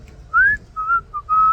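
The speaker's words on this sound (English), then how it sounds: "He started whistling at the end of the track." Someone whistles a short tune at the end of a song, a few clear, close rising and held notes with brief pauses between them.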